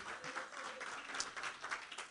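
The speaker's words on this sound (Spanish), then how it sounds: "¿Cuántos pueden dar palmas de alabanzas al Señor?" A congregation claps hands in praise during an evangelical church service, a steady dense patter of many hands at moderate loudness with no voices.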